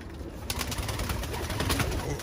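Pigeons coo softly in a brief stretch, their low murmuring calls repeating close by with no speech over them.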